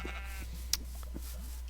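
A single short sheep bleat from Minecraft, faint and brief over a steady low hum.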